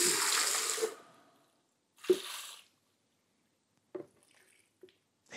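Water from a Collomix AQIX water dosing unit gushes and splashes hard for about a second, followed by a shorter splashy burst and a few faint drips and spatters.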